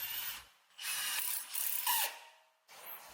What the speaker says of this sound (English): Now we have the 14mm socket on the impact, and we're removing the upper control arm bolt.